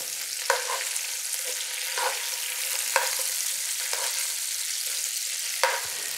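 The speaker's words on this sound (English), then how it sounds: "And we're going to let these saute." Green beans with sliced garlic and pancetta sauté in a pan with a steady bright sizzle, punctuated by occasional soft taps and tosses, close up and with no speech.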